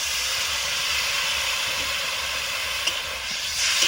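Tamarind water poured into a hot pan while cooking fish and vegetables, giving a loud, steady broadband hiss and sizzle that holds for the whole stretch without letting up.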